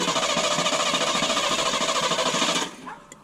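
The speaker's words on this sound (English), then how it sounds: "Now we're going to start it up, and hopefully this thing runs a bit better." A car engine, running rich after an idle air control valve replacement, cranks and chugs loudly in a fast, pulsing rhythm, then cuts out abruptly, leaving only faint noise.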